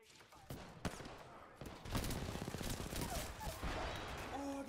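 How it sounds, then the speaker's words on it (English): Rapid bursts of gunfire in the battle royale game Apex Legends, dense and loud over several seconds, with a player talking over the shooting. "Oh, I got shot from behind."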